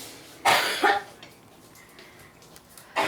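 Two sharp coughs from a woman with a rare incurable illness close by, then a quiet pause before another cough starts at the end.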